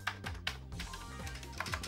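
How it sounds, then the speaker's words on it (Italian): Keys clatter on a Commodore VIC-20 keyboard, the same style later used on the Commodore 64, in a quick run of close, crisp clicks and taps with a few sharper strikes. "questo è il classico suono della tastiera del VIC-20 Commodore 64"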